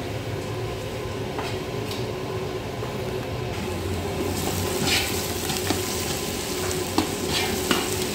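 Large boneless chicken pieces for Arabic royal chicken biryani stirred in a pot, a continuous sizzle with soft scraping and occasional clinks of the utensil, no voices over it.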